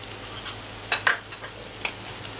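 A spoon mixes egg masala with ghee and coriander leaves in a pan, giving a few scraping stirs and clinks over a soft background hiss. The sounds are close and brief, with no voices.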